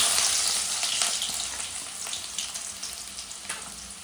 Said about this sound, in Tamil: கடுகு போட்டுட்டாங்க. கருவேப்பிலை எடுத்து வச்சுருக்காங்க தாளிக்கிறதுக்கு.